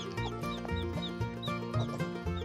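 A young chick peeps in quick, high chirps, repeated several times close by over a busier backdrop of lower farmyard sounds.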